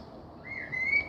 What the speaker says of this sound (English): Sorry if the birds are overriding my voice.